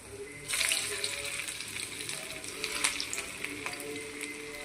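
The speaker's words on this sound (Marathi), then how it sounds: "मी ते पाहू शकता आपल्या वड्या आहेत त्या मस्त असं क्रिस्पी असं तळल्या जात आहे" Squares of leftover roti, cut and dropped into hot oil in a pan, sizzle and crackle steadily as they crisp, a bright hiss swelling after a brief quiet start, with scattered pops, moderately close and without speech.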